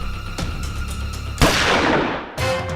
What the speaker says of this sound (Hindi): अंदर से गोली चलने की आवाज आई है